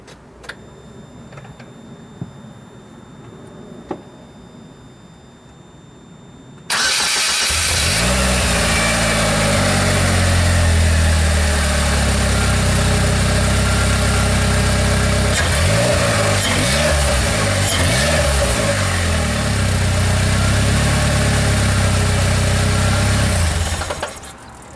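A Polaris Slingshot fitted with a 1320 Performance V2 stainless steel header cranks and fires up, then settles into a loud, steady idle with a deep low rumble that holds without a break to the end, after a quiet stretch of faint handling noise.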